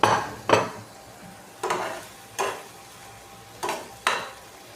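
A utensil scrapes and stirs chopped tomatoes into snakehead fish bhuna cooking in a pan, with six distinct strokes in an uneven rhythm over a soft, steady sizzle.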